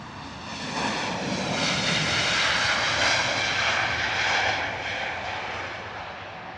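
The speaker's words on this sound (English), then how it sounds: "Lufthansa A320neo heading out to Frankfurt this morning." Lufthansa A320neo jet departing Heathrow bound for Frankfurt, a broad steady engine roar that swells over a few seconds, peaks, then eases slightly, heard alone from a moderate distance.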